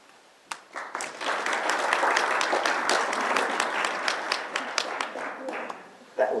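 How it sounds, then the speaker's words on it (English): An audience applauds on request at a talk, dense clapping that starts abruptly, holds steady for several seconds with individual sharp claps standing out, then cuts off quickly. "Just applaud."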